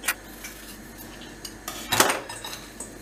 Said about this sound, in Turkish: Şimdi bunu arkadaşlar hemen tuzluyoruz, karıştırıyoruz.